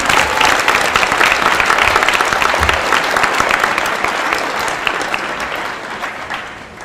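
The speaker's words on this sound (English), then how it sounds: "let's give all these students a round of applause that have received scholarships" An audience at a senior celebration of excellence claps for scholarship students, a dense, loud, sustained round of applause that tapers off slightly toward the end, with no speech over it.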